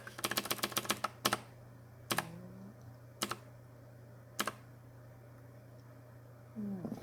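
Computer keyboard keys pressed during astronomy image processing: a quick burst of rapid taps, then single sharp clicks spaced about a second apart, close and crisp over a steady low hum.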